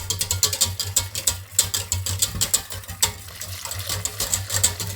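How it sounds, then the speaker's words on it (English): A pan of boiling milk being stirred as a yolk mixture goes in, with bubbling, sloshing liquid and rhythmic spoon scrapes against the pan, close and fairly loud over a low steady hum. "With constant stirring, I'll throw the yolk mixture inside the milk."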